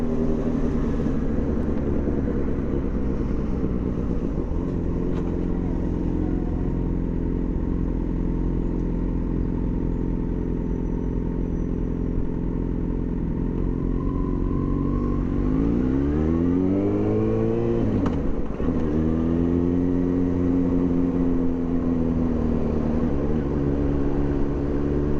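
A Yamaha FZ6 fitted with a cheap homemade custom exhaust drones steadily while riding, then revs up and falls off twice in quick succession near the end. The engine is loud and up close the whole time.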